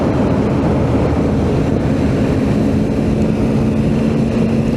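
A 2024 Triumph Tiger 900GT motorcycle rides through a tunnel. Loud, steady, booming engine noise mixes with heavy wind rush and tunnel echo, so the roar stays continuous and dense throughout with no distinct events.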